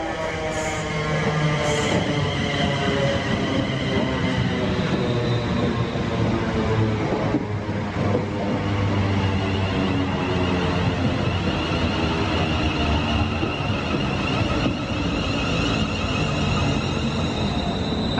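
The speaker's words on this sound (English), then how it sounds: "this is a train for Corby" A passenger train for Corby idles and rumbles steadily nearby, a constant loud drone with tonal hum lasting throughout.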